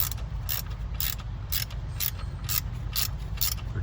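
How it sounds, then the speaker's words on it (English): A 3/8 stubby ratchet backing a bolt out of a Mercedes Sprinter during tensioner and power steering pump work, giving steady evenly spaced clicking strokes, close and fairly quiet over a low hum. "what I like to use is a little 3/8 stubby to get the bolt out"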